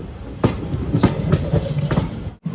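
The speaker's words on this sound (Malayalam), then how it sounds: "ട്രെയിൻ ഇപ്പോൾ അരുണാചൽ ജംഗ്ഷൻ സ്റ്റേഷനിലേക്ക് എത്തിയിരിക്കുകയാണ്." A passenger train on the Silchar to Agartala Express route runs along the rails toward a junction station, with a rhythmic clickety-clack of wheels over rail joints, loud and close from on board, and a brief drop near the end.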